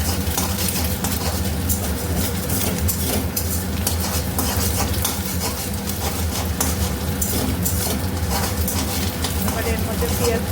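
An egg frying in a pan for Maggi noodles crackles under steady scraping and stirring, with utensils clinking against the pan throughout the clip and a low rumble beneath.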